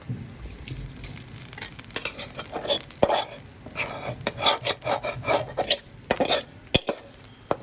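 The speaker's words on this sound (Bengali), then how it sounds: "চিকেনের পোলাও একসাথে ভালোভাবে কষিয়ে নিচ্ছে" Chicken and polao rice stirred and scraped in a pot, a steady run of close, loud rasping and metal-on-pot scrapes with sharp clinks, no voices.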